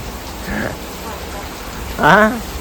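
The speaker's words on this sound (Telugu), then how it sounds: "బయట అయితే బీభత్సంగా వర్షం పడుతుంది చూడండి" Heavy rain pours down outdoors in a steady, dense hiss that runs the whole way through, with a voice briefly heard over it twice.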